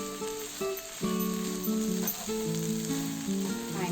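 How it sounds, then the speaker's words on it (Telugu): Shredded cabbage with moong dal sizzles steadily in a pan on the stove, a constant crackling fry with a few tonal pings from stirring, close up and without talk. "ఎంత బాగా కలుపుకొని ఒక 5 నిమిషాలు ఫ్రై చేసుకున్నాము."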